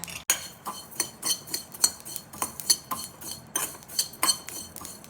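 Fennel seeds and cumin dry-roasting in a hot pan give off quick, irregular crackles and light ticking pops, close and moderately loud, with no talking.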